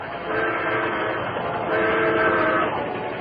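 A train rumbling loudly past with a blaring horn that swells and holds, steady and close throughout.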